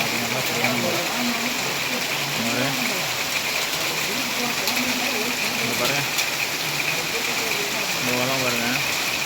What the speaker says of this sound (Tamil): அந்தளவுக்கு மழை ஜோன் பெய்யுது